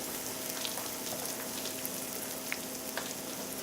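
Beef sizzling in a frying pan, a steady soft crackle and hiss with occasional sharper pops, close and fairly quiet, no voices.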